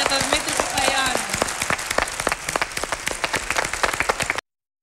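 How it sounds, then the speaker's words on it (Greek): An audience claps together during auditions for the Athens 2004 Olympic Games ceremonies, a dense, close patter of hands for about four seconds, with a voice heard briefly near the start, then a sudden cut to silence. "Ένα χειροκρότημα για τον Δημήτρη Παπαϊωάννου."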